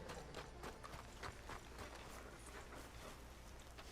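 A horse in the Red Dead Redemption 2 video game trots with quick, steady clip-clopping hoofbeats, quiet and continuous throughout.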